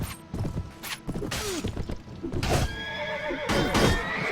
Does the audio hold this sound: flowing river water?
no